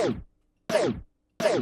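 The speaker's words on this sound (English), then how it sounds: "It tape stops something when you turn it on" Three short vocal bursts each sweep downward in pitch as if slowing to a halt, a tape-stop effect, separated by brief silences.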